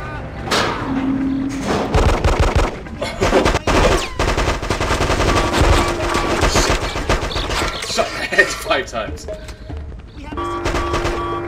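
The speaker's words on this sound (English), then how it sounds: "Sniper shot." A sniper rifle and other gunfire in Hitman: Codename 47, rendered as a dense run of loud, close shots and thuds over eleven seconds, with heavy impacts and ongoing in-game noise between them.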